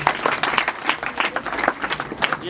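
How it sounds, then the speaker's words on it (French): Audience applause at a school cultural day celebration, lively clapping from a sizeable crowd with individual sharp claps poking through a continuous rattle. "Applaudissez."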